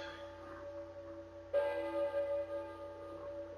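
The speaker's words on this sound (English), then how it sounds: "I hear a church bell, maybe? Who's ringing the bell?" A church bell rings in the Silent Hill video game. The steady, sustained bell tone swells partway through over a low droning ambience, with no one speaking.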